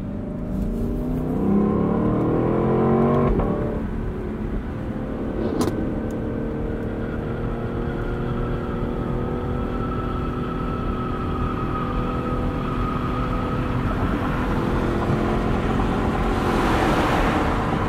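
Steady, loud road roar from a 2021 Lexus LC 500 Convertible cruising on a loud section of highway, with continuous tire and wind noise and a brief whoosh of passing traffic near the end.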